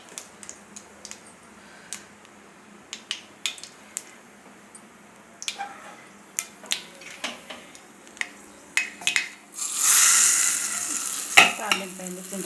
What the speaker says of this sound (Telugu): తాలింపు పెట్టుకోవాలి చింతకాయ చట్నీలోకి.